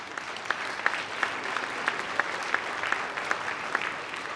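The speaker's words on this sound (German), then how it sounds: "Applaus" Applause from a political rally audience, a moderate, even spread of clapping heard somewhat distant, with a few louder individual claps standing out.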